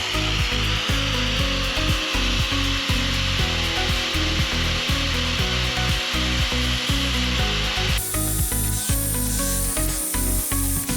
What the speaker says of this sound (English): So we're gonna cut this up, and then we're gonna make 1, 2, 3, 4, 5, 6,